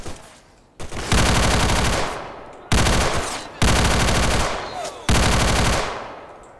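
A PPSh submachine gun fires in the video game S.T.A.L.K.E.R. in four loud, rapid automatic bursts, each lasting about a second, with short pauses between them.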